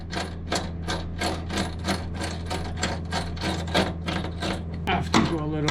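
A wrench tightens a crossnut bolt inside a new van, giving a steady run of close, rapid metallic ratcheting clicks over a low constant hum.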